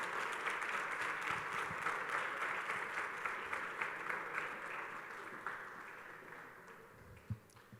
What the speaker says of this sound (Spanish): que le demos un fuerte aplauso por compartir su testimonio